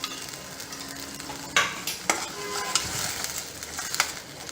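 Coconut masala paste stirred and sautéed in a pan for ash gourd kootu, giving a soft steady sizzle broken by several sharp scrapes and clinks of a spatula against the metal, close by with no talk.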